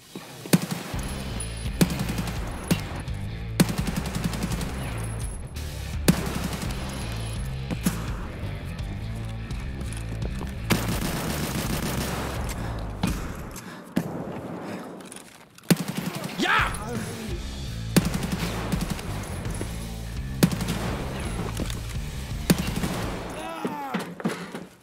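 Dense bursts of gunfire in the shooter game Escape from Tarkov, loud and nearly continuous with a few brief pauses, with voices talking over it.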